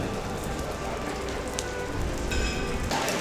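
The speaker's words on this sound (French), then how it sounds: "on a du bol avec la météo vu qu'il pleut quand on est à l'intérieur" Steady rain patters outside the Alhambra, a dense, continuous wash of drops heard from indoors, fairly even and close, with no voices over it.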